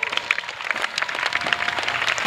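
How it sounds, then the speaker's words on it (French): Congregation clapping at a salvation and healing church service in Port-Bouët, scattered hand claps building into steady applause at moderate distance. "Let's clap for Jesus."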